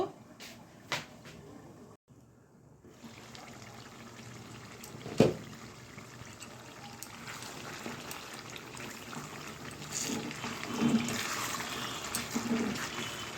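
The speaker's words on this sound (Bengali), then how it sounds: "গোবিন্দভোগ চালটা এখন ঝরা দিয়ে দিব" Parboiled Gobindobhog rice for mutton kacchi biryani is drained, and water pours and splashes steadily at close range, growing a little louder toward the end, with a brief clatter near the start.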